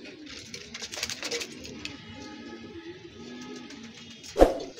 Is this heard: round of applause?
no